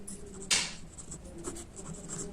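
Pen or pencil writing on paper while working a Class 7 maths word problem about counting fruit trees: a sharp scratchy stroke near the start, then faint, soft scribbling continuing quietly alone.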